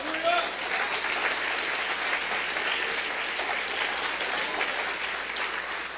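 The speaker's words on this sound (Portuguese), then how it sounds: "Aplauda Jesus." A church congregation applauds together during a Portuguese-language sermon, a steady, dense wash of clapping that holds for the whole stretch, with a faint voice briefly audible at the start.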